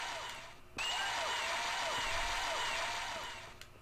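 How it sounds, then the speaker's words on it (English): A crowd cheers in Mega Man Battle Network 4, a sudden broad roar that starts abruptly, holds steady for about three seconds, then fades, with no voices over it. "Now we're cheering for Mr. Match."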